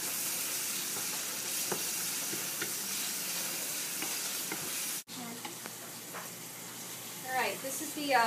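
Food for Cuban empanada filling sizzles steadily in a pan while a spoon stirs and scrapes, a constant quiet frying hiss with light clinks, and a person speaks near the end.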